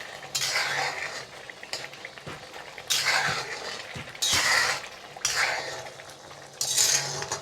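Egg curry cooked with garam masala is stirred in a pan in bursts: a spoon scrapes and rattles against the metal for a second or two at a time, with quiet pauses between, close and fairly soft, no speech.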